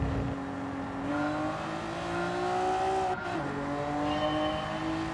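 In the racing game Gran Turismo 7, a race car's engine drones and climbs through the gears, with tire squeal mixed in; steady, moderately loud, and with no talk.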